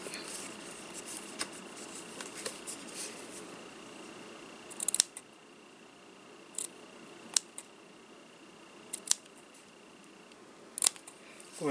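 Scissors snip material for a miniature vintage-style photo album, giving a few crisp, close cuts and clicks spaced out over faint background hiss.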